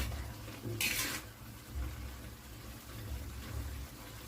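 Cooked pakbet vegetable dish being stirred in a pot, giving a short burst of scraping utensil clatter near the start over a low background rumble, then quieter shuffling.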